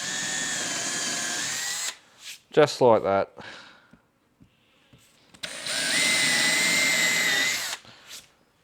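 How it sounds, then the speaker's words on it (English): A power drill bores a pilot hole, not all the way through, in two sustained bursts of steady whine, with someone speaking briefly in the gap between them. "There's me 2 holes I'm going to drill, that's it. Righto, pilot hole number 1,"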